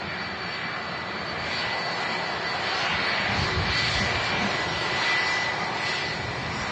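Embraer jet airliner coming in to land at Manchester Airport on runway 05 left, heard as a loud, steady broadband engine roar that swells slightly as it passes, with no voices.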